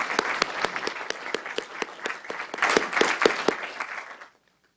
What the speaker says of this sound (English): Let's have a round of applause for the Planning Committee.